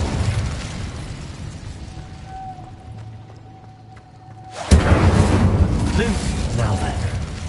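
Incendio fire spell cast in Hogwarts Legacy: a quiet ambient stretch breaks into a sudden loud whooshing burst of flame that roars on steadily to the end.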